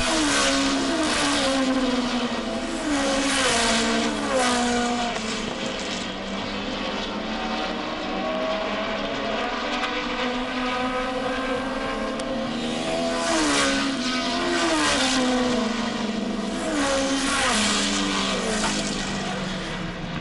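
Race cars on a New England oval track roar loudly past one after another, engines rising and falling in pitch as they sweep by close, with no talk.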